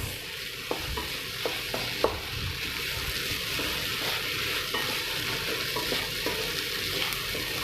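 Vegetables and hing are stirred in a pan for vegetable rava upma: a steady close sizzle with soft scraping strokes and a few sharp utensil clicks near the start, no talking.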